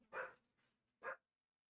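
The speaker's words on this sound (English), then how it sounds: "You guys can hear the dog barking." Two short dog barks, close by, with a brief pause between them and then silence.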